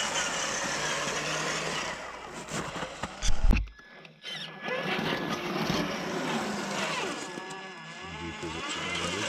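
A vehicle doing a burnout on a patch of ice, engine droning and revving under a whine of spinning tyres, briefly cut by a loud thump before the engine sound resumes, with voices talking at times.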